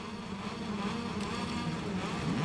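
A Moto2 racing motorcycle engine in the MotoGP 22 video game idles and revs on the grid at the Japanese Grand Prix at Motegi, a steady buzzing drone that rises slightly toward the end.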